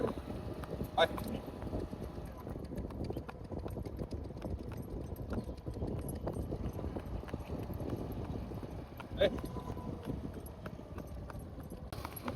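Steady clip-clop of a mare's hooves at an unhurried walk, moderately close, with wind rumbling across the microphone throughout.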